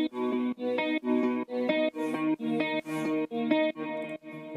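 An electric guitar track in a beat production, played with Evolution guitar library sounds, chopped into a steady rhythmic pattern of repeated chords with short gaps, bright and processed with effects, fairly loud and without talk.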